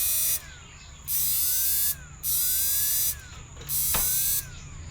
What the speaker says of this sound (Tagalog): Ganyan yung blower.